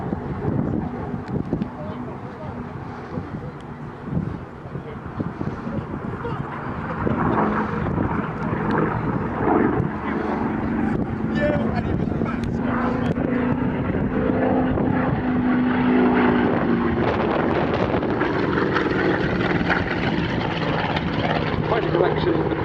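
A Curtiss Hawk 75 piston-engined fighter flies at the Duxford D-Day airshow, its propeller engine droning loudly and steadily and rising as it passes, with wind noise and a commentator talking over it.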